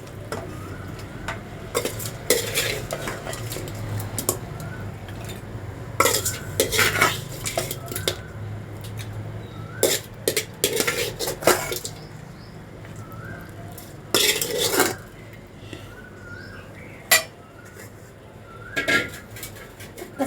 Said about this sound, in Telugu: చక్కగా కలియబెట్టేసుకుందాం.